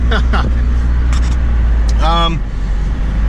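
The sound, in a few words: car with blown shocks driving down the road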